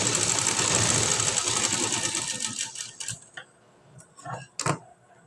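A sewing machine runs steadily while stitching decorative dots on fabric, its rapid mechanical whir continuous at first, then breaking into short separate bursts with pauses between them toward the end.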